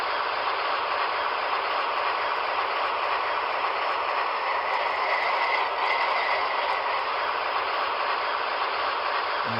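An MTH HO scale Reading ALCO FA-1 model locomotive runs with its sound system on, giving a steady, continuous diesel engine drone at even level throughout, with no talk.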